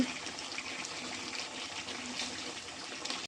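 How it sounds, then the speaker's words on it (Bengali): Water poured into a pot of simmering duck meat with potatoes, a continuous splashing gush lasting a few seconds, close and moderately loud, ending abruptly. "তো মাংসে আমি জল দিয়ে দিলাম"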